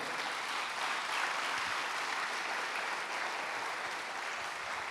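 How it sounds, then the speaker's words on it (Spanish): Church congregation applauding, a steady, dense wash of clapping that stays even and continuous throughout, with no talk over it. "Y voy a aplaudir al Señor, apláudalo sin miedo."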